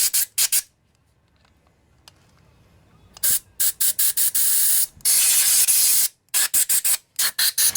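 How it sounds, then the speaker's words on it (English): Compressed air blasting out a Tecumseh lawnmower carburetor, sharp loud hissing bursts in rapid stop-start pulses after a quiet stretch, close to the microphone, with no talking. "Another one of my favorite tools, compressed air."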